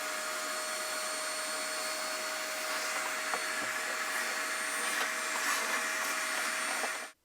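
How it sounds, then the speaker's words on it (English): Vacuum cleaner running steadily inside a coffee machine clogged with coffee grounds, a loud continuous whine and rushing air with small rattling pops as debris is sucked up, cutting off at the end. "I might get the vacuum out and start to remove a bunch of this coffee."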